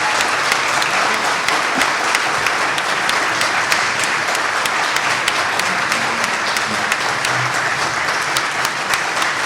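Sustained audience applause at a Q&A event in Montecito, California, steady dense clapping filling the room from start to finish with no break or talking over it.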